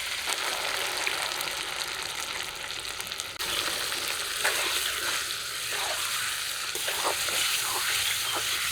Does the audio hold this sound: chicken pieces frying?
yes